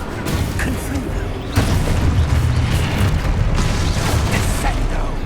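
Booming blasts from the Confringo spell in Hogwarts Legacy roll out over a steady rumble, with a sharper explosive burst partway through that keeps crackling loudly.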